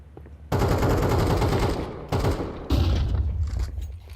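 A Counter-Strike match plays out a dense barrage of rapid automatic gunfire, loud and close, in three sustained bursts separated by short gaps, with a booming low end under the shots.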